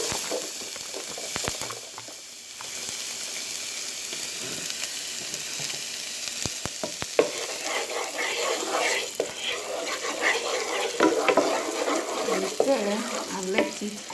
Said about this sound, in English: So I'm gonna add some oil to make our roux. Then chopped onions.